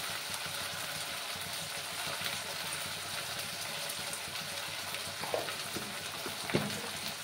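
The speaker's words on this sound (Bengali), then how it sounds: "এই মশলাটাকে কিন্তু ভালো করে কষিয়ে নিতে হবে।" Spice paste with turmeric frying and being stirred in a pan for a rui fish curry with gathi kochu, a steady low sizzle with a couple of brief scraping knocks near the end.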